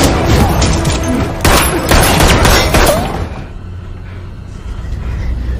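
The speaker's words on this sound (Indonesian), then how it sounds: "Logan pun langsung menembakkan beberapa peluru ke arah mereka" A rapid fusillade of gunshots rings out in a James Bond film scene, loud overlapping cracks and booms for about three seconds before fading into a quieter rumble.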